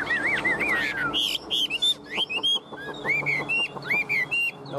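A Chinese hwamei songbird sings up close and loud, pouring out a rapid run of bright, varied whistled phrases, sweeping slurs and quick repeated notes with only brief pauses between bursts.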